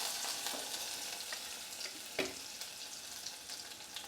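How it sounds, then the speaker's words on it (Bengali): Crushed garlic fries on low heat in a pan of tempered oil for lau dal, producing a soft, steady sizzle with occasional light stirring clinks and scrapes. "আঁচটা আমি লো করে এখানে এটা ভেজে নেব ভালো করে"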